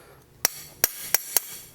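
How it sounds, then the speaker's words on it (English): Four sharp metal hammer blows ring out on an anvil, spaced irregularly across a short quiet stretch, each with a bright clanging attack while a blacksmith straightens an 18th–19th century style toaster. "I can straighten up on the side of the anvil."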